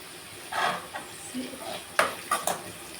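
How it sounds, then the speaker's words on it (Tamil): Vegetables with turmeric stirred in a pan, several scraping strokes and light metallic clinks of a spoon against the pan, close and fairly quiet over a faint sizzle, with no talking. "நல்லா எல்லாம் சேர்த்துட்டு நல்லா மிக்ஸ் பண்ணிவிட்டு"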